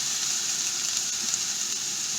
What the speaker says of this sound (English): this will help to speed up the frying of the onion